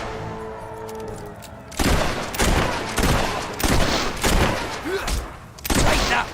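Gunfire in the video game Fable III: several loud, sharp shots burst out in quick succession over about four seconds, mixed with clattering impacts and some voice, following a quieter opening.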